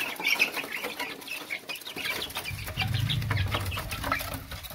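Young chicks on a farm cluck and peep steadily while being fed, recovering from green droppings and cholera; busy chirping fills the clip with a low rustle of movement beneath.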